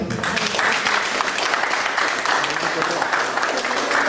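Audience applause at an academic lecture following a presentation, a short burst of dense clapping that holds steady throughout, with faint voices mixed underneath.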